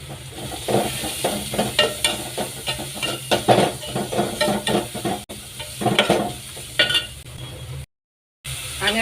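Garlic, ginger paste and green chillies sauté in a pan for chicken, with steady sizzling and repeated scraping stir strokes close up, broken by a brief gap near the end.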